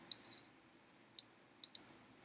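A keyboard gives a handful of quiet, crisp clicks at irregular moments against a soft hiss, with long gaps between keystrokes and no voices.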